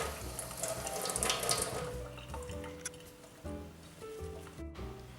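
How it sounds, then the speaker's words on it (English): Fresh parsley rinsed under a running kitchen tap, water streaming and splashing into a sink with squishing handling sounds, louder at first then easing into intermittent flow. "Give it a rinse and squeeze, give it a rinse and squeeze"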